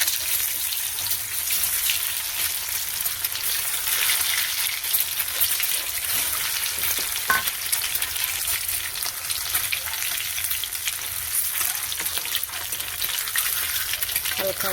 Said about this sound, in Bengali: কড়া গরম হয়ে গেছে, তেলও গরম হয়ে গেছে, তেল দিয়েছি, একটু হালকা ভেজে নেব।